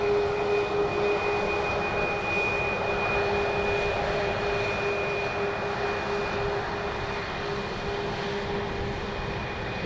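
An Airbus A300-600 jet at Edmonton International Airport, a loud steady engine roar with a sustained whine holding evenly for about ten seconds, no talking.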